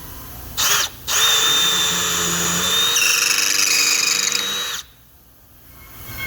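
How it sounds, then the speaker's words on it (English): A power drill whines loudly and steadily for several seconds after a brief start-and-stop burst, countersinking holes in a top plate, then cuts off, leaving quiet background. "then I'm going to start drilling here"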